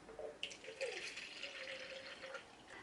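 Warm water pours and trickles into an electric makeup brush cleaner, a faint continuous splashing with small drips at close range.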